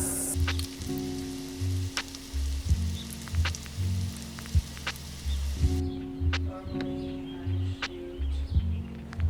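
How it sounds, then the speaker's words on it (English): Egg-washed, breaded dandelion blossoms fry in butter over medium-high heat, a steady crackling sizzle with sharp pops, beneath a quiet background of music. "I'm going to heat a little bit of the butter in here on kind of a medium-high heat"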